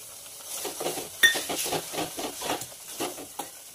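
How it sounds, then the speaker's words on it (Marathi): Spices for a chicken curry are stirred and sautéed in hot oil. A spoon scrapes the pan in a steady rhythm of close strokes over a soft sizzle, with a sharp metallic clink near the start. "आणि चांगलं परतेपर्यंत हलवत राहूया।"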